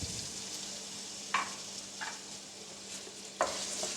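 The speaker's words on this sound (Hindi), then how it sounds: "अब इसमें मैं आलू डालूँगी और इनको फ्राई कर लूँगी।" Potatoes frying in oil in a pan, a steady soft sizzle with a few brief scraping stir sounds, close and alone without voices.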